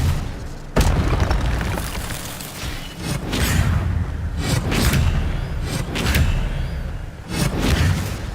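Incendio fire spell cast in Hogwarts Legacy, a sudden whooshing burst followed by a run of rumbling, booming fire blasts and repeated swelling flare-ups, loud and close.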